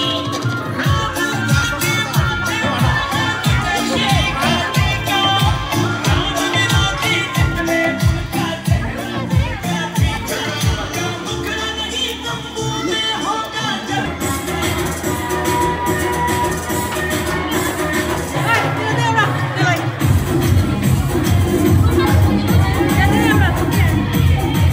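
A large, dense crowd at a Durga temple celebration in Gauriganj, Nepal, with continuous babble and shouting, music and drumming mixed in, loud and close throughout, with someone speaking over it.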